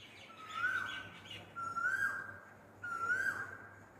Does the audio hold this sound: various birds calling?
yes